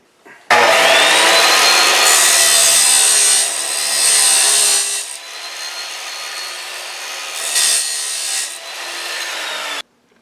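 Metal cross support bar for a 15 HP five-speed go kart rollbar being cut, a loud steady grinding whine close by, running in long stretches with brief dips and a short pause before stopping.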